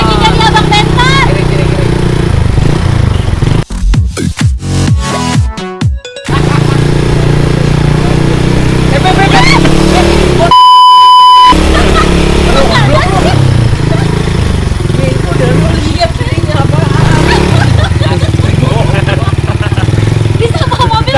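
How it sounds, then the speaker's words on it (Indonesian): A motorized rickshaw putters along with a steady engine drone and rattling, while people talk over it; brief dropouts break the sound twice. "Naik beca motor."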